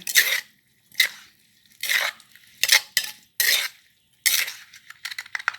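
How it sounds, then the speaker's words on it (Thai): Green mango salad with fermented fish sauce being tossed together, utensils scraping and clattering against the bowl in about seven distinct bursts of stirring, close and fairly loud with brief pauses between strokes. "คนทุกอย่างให้เข้ากัน"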